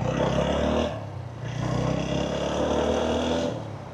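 A motorcycle engine drones steadily while the bike is ridden, loud and close with a continuous roar that dips briefly partway through before returning at the same level.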